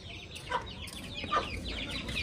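A chicken close by clucking in short repeated bursts over a low background rumble.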